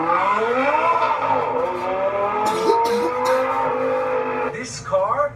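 A high-revving rear-wheel-drive Lamborghini sports car engine roars with rising and falling pitch, tires briefly squealing, then a quick rev at the end.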